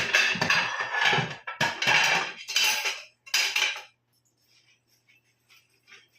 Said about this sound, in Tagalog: Ganito lang ang paglinis ng pinggan